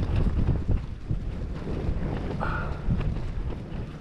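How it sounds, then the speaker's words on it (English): Damp wind gusts across the Brecon Beacons escarpment, buffeting the microphone with low, uneven rumbling and a faint tonal whistle midway. "I think the wind has definitely eased off since the middle of the night."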